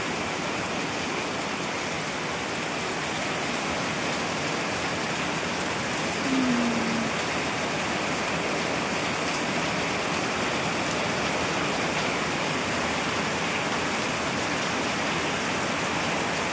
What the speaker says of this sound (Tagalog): Puro ulan yung bagyong Dante.